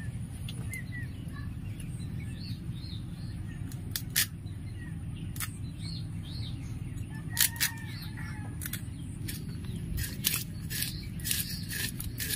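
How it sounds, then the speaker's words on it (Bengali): Small chara pond fish are cut up, producing scattered sharp snips and clicks in irregular bursts, with faint bird calls chirping in the background of a quiet outdoor setting. "আমি মাছগুলো কেটে নেবো আগে।"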